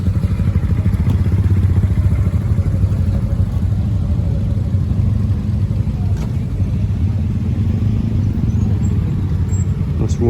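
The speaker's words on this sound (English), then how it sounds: "Royal Enfield here." A Royal Enfield motorcycle in a new retro style rumbles past on a street in Japan, its engine a loud steady thumping drone held close throughout with some traffic clatter.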